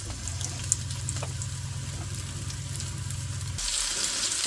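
Tuna steaks fry in an electric skillet with a steady close sizzle and a low hum, a few soft utensil taps, then the sizzle flares brighter and hissier near the end.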